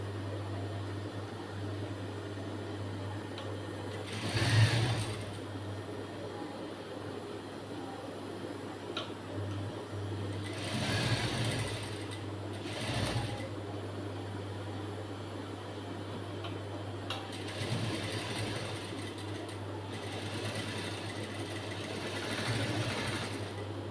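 A sewing machine stitches a blouse, running in several bursts of rapid mechanical whirring separated by pauses, with a steady motor hum underneath throughout.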